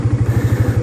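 A Suzuki motorcycle engine held at a steady 7000 RPM while practising a drag launch, giving a close, loud, pulsing drone with a regular throbbing rhythm throughout.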